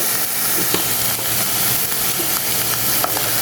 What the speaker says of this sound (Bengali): এই যে এখন এটাকে হালকা একটু ভেজে নিব আর কি।